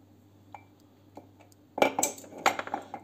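Several light clinks and clatters of dishes and cutlery cluster near the end, after a few isolated taps in a quiet room.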